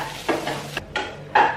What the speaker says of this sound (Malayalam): നല്ലൊന്ന് മിക്സ് ചെയ്യാം.